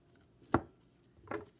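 A knife scores a block of frozen butter, five tablespoons' worth, in a home kitchen while scones are being made. Two short, sharp cuts land about three-quarters of a second apart, close and fairly quiet, with no talk.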